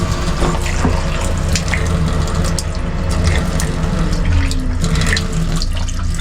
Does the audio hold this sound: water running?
yes